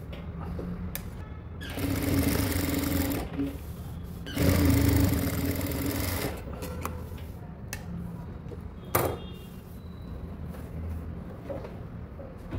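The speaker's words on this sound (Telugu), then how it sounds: "ఫస్ట్ ఆఫ్ ఆల్ ఏంటంటే ఈ నెక్ని నీట్గా మనం స్టిచ్ చేసేద్దాం." A sewing machine stitches around a blouse neckline, with loud bursts of rapid mechanical whirring separated by quieter pauses and a few ticking clicks as the fabric is repositioned.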